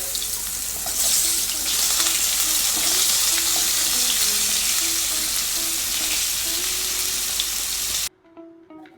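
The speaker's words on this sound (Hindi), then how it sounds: "तापरे अल्प हलदी पकईकी प्रथमे जह्नी को भाजी नबा।" Ridge gourd sizzling in mustard oil with a little turmeric over a high flame, a loud steady frying hiss with faint stirring that cuts off abruptly near the end, leaving brief quiet.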